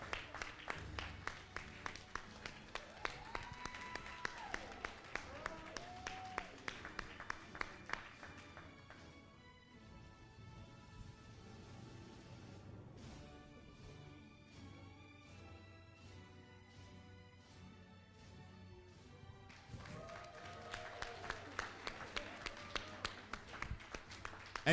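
An audience claps for a graduate at a church graduation ceremony: dense, sustained applause that fades to a quieter stretch with some tapping, then swells again near the end.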